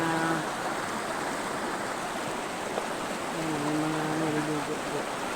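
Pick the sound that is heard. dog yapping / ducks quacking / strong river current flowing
strong river current flowing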